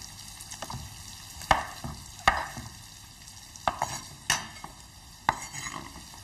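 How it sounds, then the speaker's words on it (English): Mushrooms being loosely chopped into four pieces with a knife on a board, a handful of separate sharp cutting knocks spaced irregularly over a quiet kitchen background. "Just going to very loosely chop these into 4 pieces."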